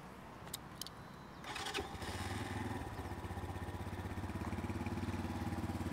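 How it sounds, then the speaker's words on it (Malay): A Brixton Cafe Racer 150i motorcycle engine cranks and catches, then settles into a steady, throbbing idle close by, with a faint click or two before it starts. "jom kita dengar bunyi motor ni"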